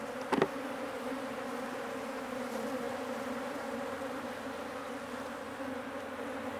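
Honey bees buzzing around an open beehive, a steady dense drone close by with a brief sharp knock near the start.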